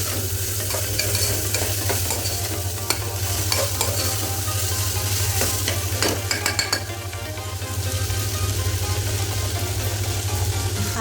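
Onions fry with a steady sizzle in a pan while a utensil scrapes and stirs them in repeated bursts, close and continuous throughout.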